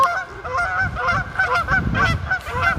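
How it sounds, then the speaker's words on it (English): Geese honk repeatedly and loudly near a lake on a cold winter day, overlapping calls in an irregular chorus with no talking. "as the geese say hello"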